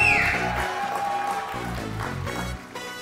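Studio audience applause greets guest Nehal Hashmi arriving on a talk show, a dense steady wash of clapping with some background voices and music underneath.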